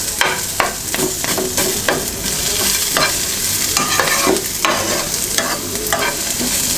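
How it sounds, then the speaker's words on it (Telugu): Onions fry over low heat in a pan, a loud continuous sizzle broken by frequent scraping strokes of a spoon stirring them, close and without talk. "మనం క్యాబేజీ వేసిన తర్వాత ఉల్లిపాయ వేగదు ఇంకా, అందుకని ఫస్టే కొంచెం మంచిగా వేపుకోవాలి"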